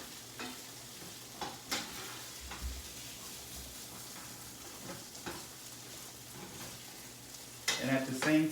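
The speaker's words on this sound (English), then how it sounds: "Since the heat is a little high, just keep stirring them so they can get nice and cooked." Vegetables are stirred in a hot frying pan over fairly high heat, with quiet intermittent scrapes and a low sizzle and a busier burst of stirring near the end.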